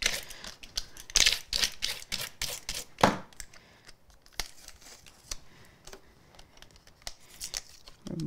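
Backing tape is peeled from craft paper in a quick burst of close, sharp ripping and crinkling strokes, then a few scattered softer peels and taps without speech.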